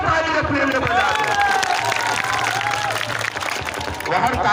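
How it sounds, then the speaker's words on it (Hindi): Large crowd at an outdoor wrestling event (dangal) in Kushinagar, Uttar Pradesh, clapping and cheering in a dense wash of applause under an amplified voice. "एक बार जोरदार ताली अपने लिए बजा दो।"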